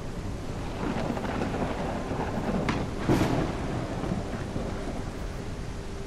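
Steady rain and rolling thunder in the Kayak VR video game, a continuous wash of rainfall with a louder thunder rumble near the middle, heard alone without talk.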